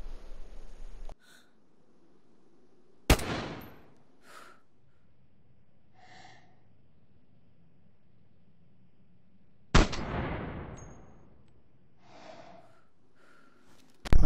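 Two sharp, loud gunshots in the video game DayZ, several seconds apart, each with a long fading echo across open terrain, separated by quiet stretches with faint breathing.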